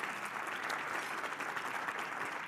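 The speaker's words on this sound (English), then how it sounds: "If we could give her a round of applause," An audience gives a round of applause at a university research day keynote, a steady wash of clapping hands from a sizable room, moderately distant, with no voices on top.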